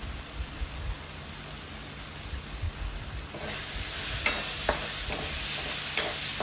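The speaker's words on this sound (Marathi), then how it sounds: "आता हे सगळं परत आपल्याला एकदा परतून घ्यायचं आहे" Spices and crushed peanuts stir-frying in a pan, a soft continuous sizzle with low scraping stir strokes early and a few sharp clicks and taps of a utensil later on.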